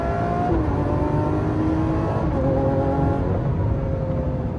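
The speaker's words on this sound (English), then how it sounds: "Let me let you guys hear this exhaust a little bit." A Lamborghini Aventador SV with a Gintani exhaust and tune revs loudly and continuously up close, its engine note holding steady harmonic tones that rise and shift through the run.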